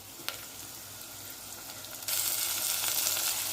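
Potato pieces frying with onions in a pan: a steady, close sizzle that suddenly swells into a louder, brighter crackling hiss partway through and holds there.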